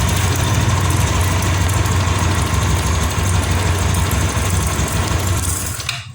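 A 2022 Honda Scoopy motor scooter engine idles steadily on battery power with a low, even putter, then cuts off abruptly at the very end.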